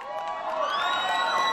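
A festival crowd at a Joninės midsummer celebration in Rėkyva in 2014 cheers and shouts in welcome for a band, a loud sustained roar of many voices with whoops rising over it.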